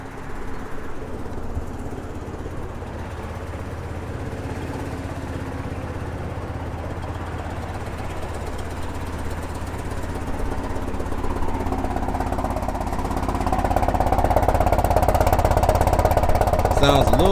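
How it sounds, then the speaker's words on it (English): A car engine runs with an odd, rough note, a steady low rumble that swells louder toward the end. "And the car sounds funny too, so let me hop out and hear it."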